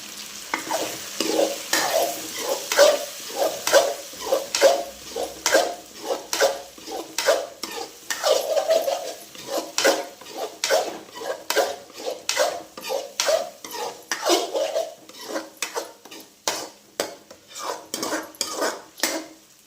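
Food roasting in a pan with a spoon stirring and scraping in steady repeated strokes, close and fairly loud, with a soft sizzle underneath and no talking.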